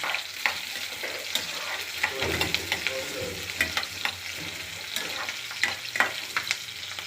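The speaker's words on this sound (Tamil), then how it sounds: "கருவேப்பிலையும் இந்த சின்ன வெங்காயத்தையும் அதோட கலந்து வெங்காயத்தை அதோட நல்லா வதக்கிடலாம்" Shallots sautéing with pepper and curry leaves for Tirunelveli sodhi: a steady close sizzle of frying with frequent scraping strokes of a stirring spoon against the pan, continuous throughout with no voices.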